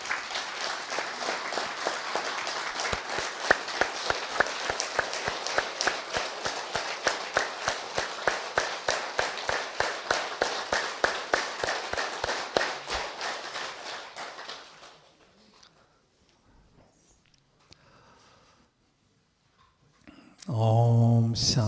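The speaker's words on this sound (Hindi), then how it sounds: "सब थोड़ा सा तालियां बजाओ जरा।" An audience at a Brahma Kumaris meditation class clapping hands together in a brisk, steady rhythm for about fourteen seconds, loud and close, then fading out to near silence before a voice begins.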